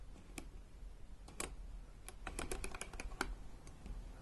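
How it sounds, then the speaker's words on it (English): Aperture ring on a vintage Olympus Zuiko lens turned through its click stops, giving a string of small, sharp, close ticks at irregular spacing over a faint background hiss. "Like all the Zuiko lenses, this has click stops on the aperture."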